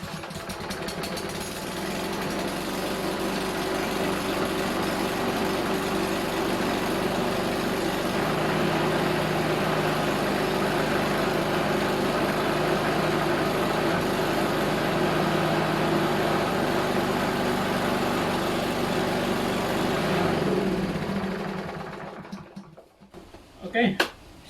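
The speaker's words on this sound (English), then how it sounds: "let's try if we can start the engine." A lawn mower engine starts and runs at a steady, loud close-up chug for about twenty seconds, then cuts out and winds down into a few faint clunks at the end.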